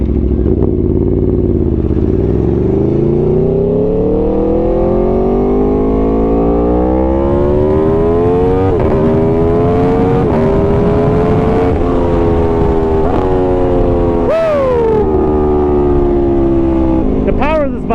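A 2018 Aprilia Tuono V4 Factory motorcycle in race mode accelerating hard on a highway, its engine climbing loud and close through several quick-shifted gears with brief dips between pulls, and a voice speaking partway through.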